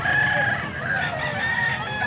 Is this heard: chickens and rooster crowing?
yes